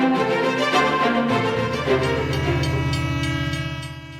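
A train departing Riga station sounds a long, loud, harmonic horn blast over the rumble and rhythmic clatter of its wheels, the horn sliding in pitch as it holds and then fading toward the end.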